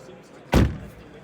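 A 2025 Fiat Grande Panda door shuts with its window fully down, one solid close thud standing out from quiet surroundings.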